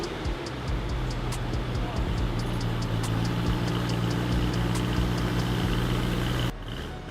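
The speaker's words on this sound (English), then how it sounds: "Give it a cold start." A BMW E90 M3 engine runs loud and steady after a cold start, with a deep droning idle, regular ticking on top and a low exhaust rumble. A faulty muffler with broken hangers adds to the sound.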